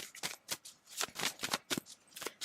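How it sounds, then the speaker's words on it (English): A deck of tarot cards being shuffled by hand, a rapid series of crisp riffling and slapping bursts close to the listener, with no talking. "Let's give these cards a really good shuffle."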